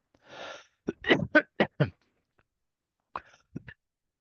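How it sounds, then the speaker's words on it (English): A short burst of coughing from a man with a cold, several quick close coughs in a row, followed by a couple more after a pause. "Sorry for the cough."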